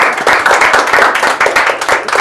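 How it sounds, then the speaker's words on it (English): A short, loud burst of audience clapping at a live talk show on relationships, close and crisp individual claps in a brisk uneven rhythm. "One more clap for her."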